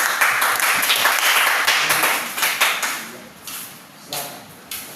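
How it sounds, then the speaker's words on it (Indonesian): Classroom clapping from students after a group reading activity, brisk and fairly loud at first, then thinning into scattered claps and taps before fading out. "Boleh saja mau tepuk tangan lagi."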